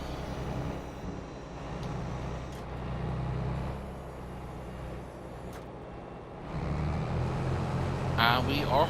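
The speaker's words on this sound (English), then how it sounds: "Let's unfold the combine." A combine harvester unfolding in Farming Simulator 22, steady engine rumble with hydraulic hissing and mechanical shifts, rising in level toward the end; a voice talks over part of it.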